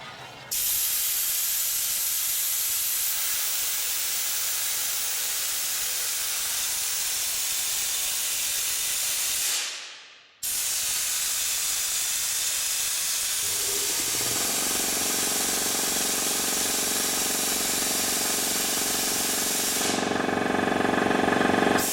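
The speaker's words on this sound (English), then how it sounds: "I'm going to use this air blower and let you watch what happens here" A handheld compressed-air blower gun fed through an air compressor's filter regulator blasts in two long, loud, steady hissing bursts separated by a brief pause, with the second burst shifting in tone.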